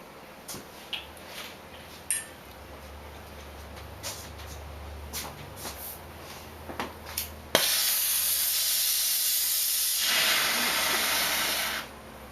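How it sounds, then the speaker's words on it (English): A MAP gas torch flame used for metal casting bursts into a loud, steady roar-like hiss partway through, holding for several seconds before cutting off, after a stretch of quieter background with faint clicks. "Use the torch. MAP torch."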